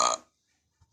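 A single short burp from a Simpsons cartoon burping contest, quick and bright, followed by near silence.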